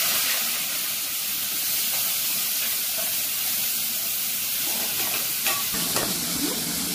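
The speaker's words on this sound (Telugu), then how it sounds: "కొద్దిగా ఫ్రై అయిన తర్వాత 1 కప్పు ఆనియన్స్ అండ్ 2 పచ్చిమిర్చి కూడా మిక్స్ చేసుకున్నాం." Onions and green chillies frying in oil with cardamom, a continuous loud close sizzle with stirring scrapes and a few sharper clinks toward the end.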